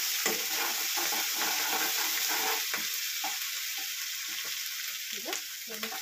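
Spices with ginger-garlic paste stirred in a sizzling pan, a steady frying hiss with scattered scrapes and clicks of the spoon, close and continuous, no voices.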